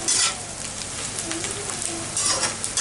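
Chopped onions sizzle and fry in a pan over high flame while browning, a steady close hiss with faint stirring scrapes throughout, no voices.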